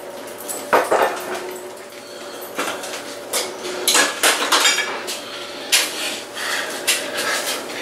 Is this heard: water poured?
no